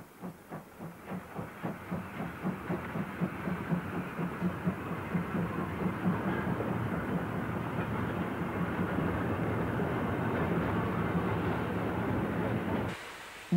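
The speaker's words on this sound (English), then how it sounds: "a large tank locomotive, possibly one of the pre-war 464s, which had already been replaced in the West, hauls another passenger train with diesel help" A large steam tank locomotive hauls a passenger train out of Gera with a diesel helping, its exhaust beats loud and close, speeding from separate chuffs into a steady roar with rail clatter before cutting off near the end.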